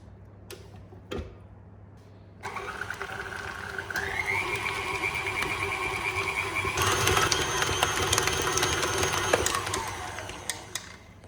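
An electric mixer beats butter for kourabiedes, starting after a couple of clicks and then holding a steady whirring drone with a rising whine and a rattling beater, close and loud, with no talking.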